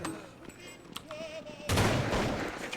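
Gunfire from a weapon in Counter-Strike, a sudden loud burst that continues steadily after a quieter stretch of faint game sounds.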